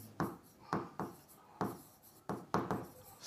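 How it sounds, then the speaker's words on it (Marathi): Chalk or marker strokes on a board in a classroom, a series of short scratchy taps and drags in an irregular rhythm, close and moderately loud, with no talk. "आपलं वर लिहितो समान"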